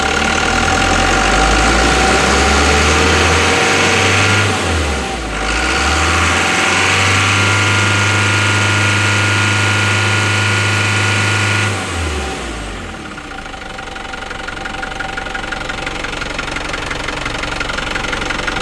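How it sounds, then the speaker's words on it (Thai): A turbocharged car engine runs loudly and steadily at close range with a rough, knocking hum, briefly dipping in pitch before settling back and fading to a quieter idle. "ฟังเสียงเทอร์โบเลยพี่น้องเครื่องดีนะครับ"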